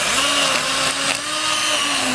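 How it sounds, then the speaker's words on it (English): A hand blender whirs steadily at high speed, puréeing cooked Trinidad callaloo until smooth, loud and close, with a continuous motor drone and slight shifts in pitch, no talking. "Utilizar una batidora de mano y mezclarlo hasta que es suave."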